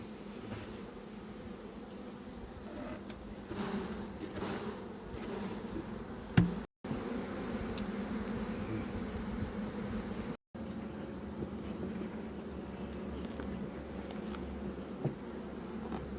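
Bees hum around a homemade horizontal beehive that is built without honey collection in mind. The droning buzz is steady and close, with no voices, and runs the whole time apart from two very brief dropouts.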